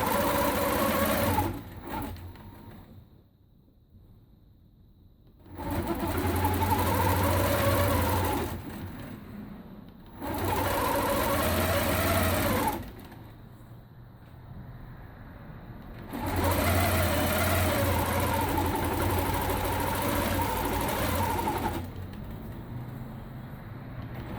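A longarm quilting machine stitches in the ditch on a quilt, its steady motor hum running in several bursts separated by short pauses, fairly close and clear.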